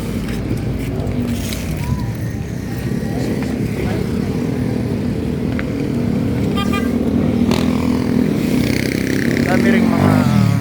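Motorcycles pass along a busy street in Manila's Port Area, their engines droning steadily nearby and rising in revs toward the end, amid constant street noise and people talking.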